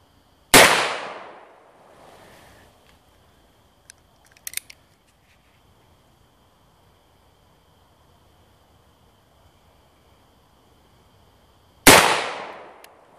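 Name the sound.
44 Super Blackhawk Magnum revolver shots at a can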